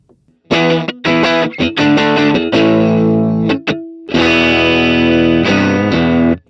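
Loud, compressed electric guitar strums and chords through a JHS Whitey Tighty compressor pedal, blend and volume turned fully up, giving a boosted, punchy tone, short pauses between bursts and a held note in the middle.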